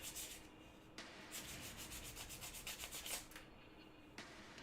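Fine-grit sandpaper rubs back and forth across a surface in quick, steady strokes, a soft close-up scratching with brief pauses between passes and no talking.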